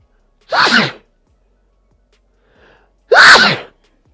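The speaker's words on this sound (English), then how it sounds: "I think I got to sneeze." Two loud, sharp sneezes, each a burst of about half a second, separated by a couple of seconds of near silence.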